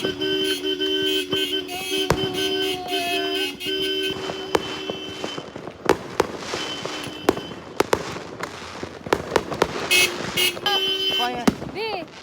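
New Year's fireworks from neighbours pop and crackle at a moderate distance in scattered bursts, with sharp bangs here and there, a passing car horn and occasional voices.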